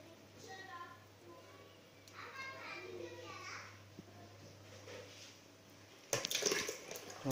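A water pump switches on and water rushes loudly into a tank controlled by an Arduino level system, starting abruptly near the end after a stretch of quiet background voices and a low hum.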